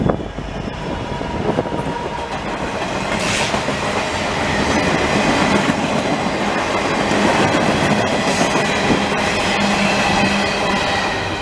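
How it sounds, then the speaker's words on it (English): A work train hauling rock through the Fraser Canyon rumbles past, loud and near, with continuous rolling clatter, rhythmic clickety-clack of wheels and occasional squeals. "every time I try to make a video, one of these trains decides to go by"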